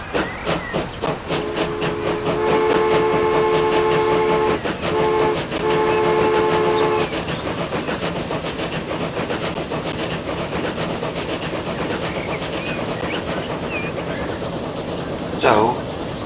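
A steam train runs in Transport Fever 2, with loud, steady hissing and rolling rail noise throughout, a sustained horn blast sounding twice in the first half, and a sharp burst of steam near the end.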